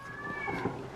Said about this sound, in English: We hear you, Cat. Everybody can hear you